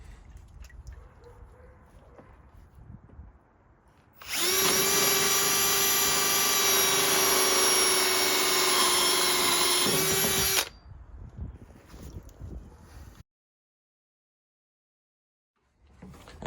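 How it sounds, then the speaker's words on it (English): A power drill bores a hole through a cold plunge tub for a hose line, a loud steady whine lasting several seconds, preceded and followed by quieter room noise. "I'm gonna drill another one over here somewhere for the hose that's pouring back into the tub"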